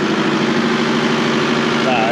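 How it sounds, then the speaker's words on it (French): A tractor engine runs steadily at a constant drone while working an onion field, a low continuous hum under someone speaking French. "Et là, c'est vrai que le tracteur passe exactement"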